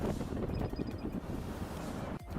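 A nearby tornado roars as a constant, heavy rumble mixed with strong wind buffeting the microphone, loud and unbroken throughout.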